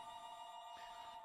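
A household telephone rings steadily through a continuous, fairly quiet tone, with no talking over it.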